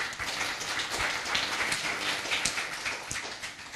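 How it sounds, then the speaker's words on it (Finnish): Steady applause from a seminar audience thanking the speakers, a dense wash of many hands clapping at once, continuous and moderately loud throughout with no talking over it. "vielä kerran aplodit aivan meidän loistaville esiintyjille ja myös Paulalle"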